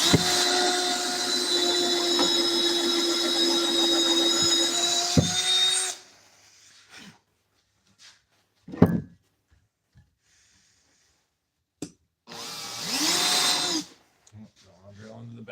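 Power drill driving 2.5-inch screws into a wooden workbench, a loud steady whine for about six seconds, then a couple of short bursts later on.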